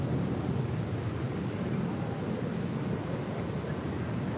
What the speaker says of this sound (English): That is Una Nueva Mentalidad, taking off to Miami, Florida on an A321, JetBlue Airways 2985.